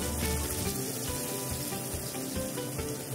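Shahi paneer paste frying in hot refined oil in a wok (kadai), giving a steady, close crackling sizzle with no talk over it.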